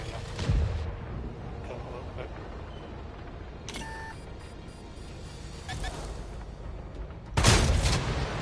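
Tank cannon fire in the online game World of Tanks, a couple of loud booming shots with sharp onsets separated by several seconds of steady game ambience, with a short beep between them.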